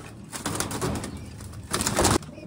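Pigeons in a home loft, including a male and young squabs, give soft close coos in a couple of low bursts, with a louder stretch near the end and a faint rustle between.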